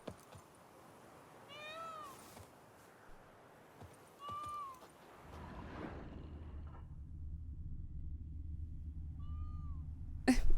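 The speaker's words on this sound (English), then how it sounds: "Oh, it was a peacock. I was like, I feel like I heard a cat when I spawned in." A peacock in the game The Witcher 3 gives three cat-like, meowing calls spread apart, fairly close, with a low rumbling ambience building underneath in the second half.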